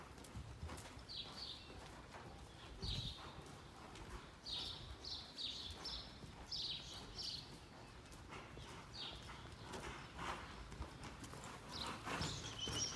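An Andalusian schoolmaster horse's hooves clip-clop in an uneven, repeated rhythm at moderate distance, with faint background ambience and no talking.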